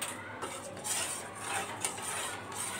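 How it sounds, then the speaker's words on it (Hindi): A spoon stirs a Labe Sheri dessert mixture in a bowl, giving faint, repeated scraping and light clinks in an unhurried rhythm. "अच्छी तरह से इसको मिक्स कर लेंगे"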